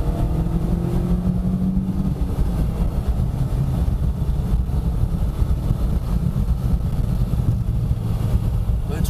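A Volkswagen Golf 4 GTI with the 1.8T engine driving along a straight road, a steady loud engine drone and road rumble heard from inside the car, with a slight rise as it accelerates.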